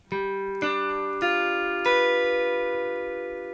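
On an acoustic-style guitar, a dominant 7th chord in the D shape is picked string by string in four separate plucks, each note ringing on and layering into a sustained chord.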